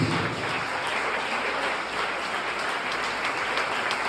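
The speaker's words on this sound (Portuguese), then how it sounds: "Vem com esse aplauso a Jesus" A church congregation applauds at a worship service, a continuous even roar of many hands clapping that blends into a dense hiss-like texture, steady and unbroken.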